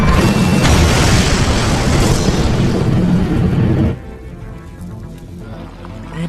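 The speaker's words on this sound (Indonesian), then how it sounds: "Hingga akhirnya Mayer pun tewas dalam ledakan tersebut" A bomb explodes in an action movie scene, a loud sustained roaring blast lasting several seconds before dropping abruptly to a quieter rumbling aftermath.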